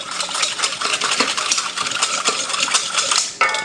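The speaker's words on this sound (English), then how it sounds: "we're going to just whisk it and we're going to taste." A whisk beating sauce in a bowl, giving quick, bright metallic clinks and scrapes in a busy, continuous rhythm, close and fairly loud, with no talking.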